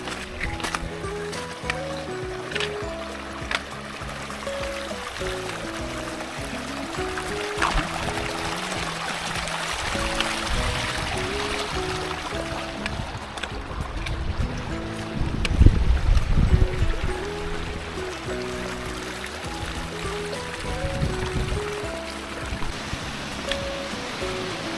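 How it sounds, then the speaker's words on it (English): Floodwater from a river pouring down a road at a winter wild camp, a steady rushing wash that stays loud and continuous, with a heavier surge midway. "The river's running down the road now."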